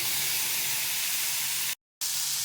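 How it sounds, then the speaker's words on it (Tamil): Onion, green chilli and tomato sautéing in a pan for cauliflower thokku, giving a loud, steady close hiss and sizzle that cuts out briefly near the end. "இப்போ நான் தக்காளியை வந்து ஆட் பண்ணி நல்லா வதக்கிக்கிறேன்"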